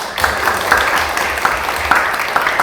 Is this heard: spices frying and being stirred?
no